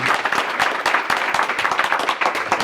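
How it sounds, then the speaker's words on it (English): An audience gives a steady round of applause for standing board members at a community center announcement, with dense, even clapping that stays loud throughout. "Let's give them a quick round of applause."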